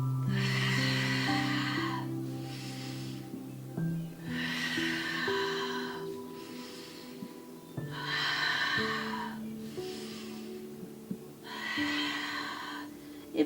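Slow, deep breaths during a Pilates exercise come as four long, loud breath cycles spaced a few seconds apart, over soft background music.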